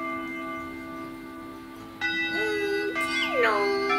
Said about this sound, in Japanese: チャイムが鳴りました。